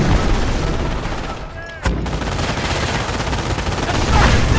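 Dense gunfire from the World War II strategy game Company of Heroes, Normandy invasion campaign: continuous rattling volleys and bursts with a sharp boom partway through, loud and sustained, with faint radio-style voices mixed in.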